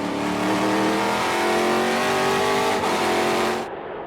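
Trans Am TA2 race cars at Laguna Seca roar past in a loud, sustained engine drone with rising pitch as two cars run side by side, the sound cutting off abruptly near the end.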